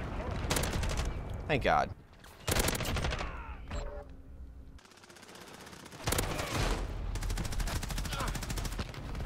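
G36C assault rifle in Modern Warfare, rapid automatic bursts hammering loud and close in several volleys with short pauses between, other gunfire mixed in and someone talking briefly.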